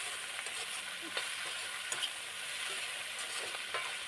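Chopped taro flowers frying in a pan at home, a faint, steady sizzle with soft crackles and occasional stirring clicks, no voices.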